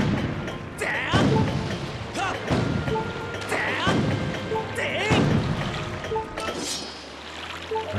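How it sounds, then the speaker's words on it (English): Cannon fire in The Legend of Zelda: Skyward Sword HD, Hero Mode, lands as a series of five or six heavy booms at roughly one-second intervals, each followed by splashing debris, with game music underneath. "Keep pounding with the cannon."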